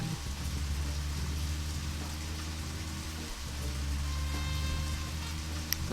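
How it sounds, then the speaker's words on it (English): Steady rain falls in the Deadly Premonition survival-horror game, a dense continuous hiss with a low rumbling bed, loud and unbroken across the whole stretch, with one brief click near the end and no talk. "The rain."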